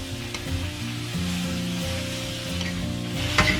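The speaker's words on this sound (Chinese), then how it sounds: "我们就可以把这个花菜放上去了，保持中小火炒，慢慢炒啊" Cauliflower florets stir-fried in a wok over medium-low heat with fermented black bean sauce, a steady close sizzle with light scraping and stirring throughout, no voices.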